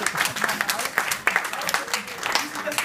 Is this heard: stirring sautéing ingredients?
no